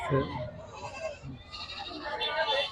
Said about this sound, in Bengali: অসংখ্য ছাগল বাধা রয়েছে এই ছাগলগুলা কিন্তু সব বিক্রি করা হবে